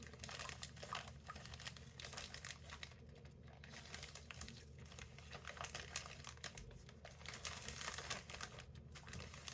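Plastic Ziploc-style bag being handled while a rack of lamb roast goes inside, giving continuous close crinkling and rustling with small crackly bursts throughout, no talking.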